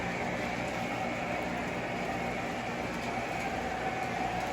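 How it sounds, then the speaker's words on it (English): An AC4400 (44 AC) diesel-electric locomotive gives a steady, continuous rumble with broadband hiss and a faint hum, unchanging throughout and with no voices. "I love this locomotive. You can see it's a 44 AC."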